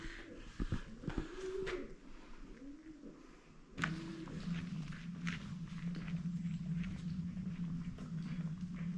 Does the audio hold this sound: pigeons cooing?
yes